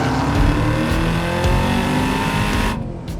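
Engine of a 2022 Cadillac CT5-V Blackwing super sedan, a loud, close, sustained roar with a rising drone that holds steady before cutting off sharply near the end.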